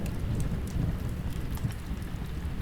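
A thunderstorm over a campsite brings steady heavy rain with deep rumbling thunder that swells and fades throughout, loud and continuous.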